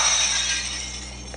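The Stone of Life shattering in the Tokyo Mirage Sessions video game: a bright, glassy breaking burst, near and loud, with a shimmering tail that fades over about a second.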